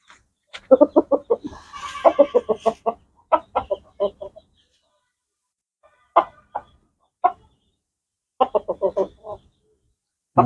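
A chicken clucks in several close bursts of rapid, rhythmic calls separated by short pauses, with no other sounds.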